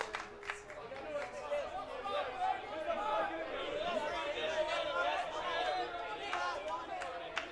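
Crowd chatter in the baseball stands at Nicolay Field during an NCAA Division III regional game, a soft, steady babble of many distant voices with occasional faint shouts and claps.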